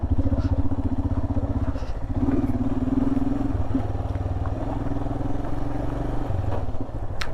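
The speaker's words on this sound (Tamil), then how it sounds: "கியர் அடிக்குது" A Royal Enfield Himalayan motorcycle is ridden off-road on a rough mountain track, its engine thumping steadily and loudly while the gearbox clatters over bumps throughout.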